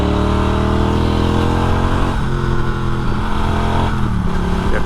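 A Norton Commando 961 motorcycle on the road, loud close engine note with rapid revving blips as it rev-matches through downshifts, pitch dropping and rising between gears, with no talk over it.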